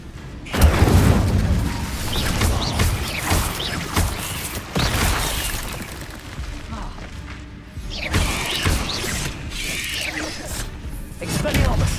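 Spellcasting combat in Hogwarts Legacy with the Incendio fire spell, loud whooshing bursts, crashes and thuds erupting repeatedly throughout, while a voice keeps shouting spell names over the clashes.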